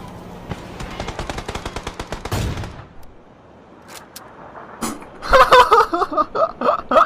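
Rapid automatic gunfire from the video game PUBG, a fast string of sharp close shots followed by a pause, then another loud burst of repeated shots with ringing echoes.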